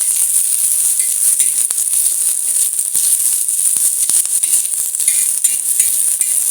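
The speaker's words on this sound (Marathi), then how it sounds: "मिरच्या भाजून घेते." Green chillies roast and sizzle in a pan for thecha, a steady, dense hiss running unbroken throughout with occasional light stirring clicks.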